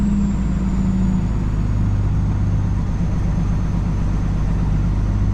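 A Peterbilt truck's diesel engine rumbles steadily and close, a low droning throb that holds throughout with no clear Jake brake bark standing out.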